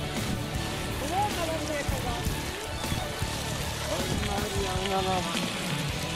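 A car wash running, with a loud, continuous hiss of spraying water that fills the whole stretch, and faint voices mixed underneath.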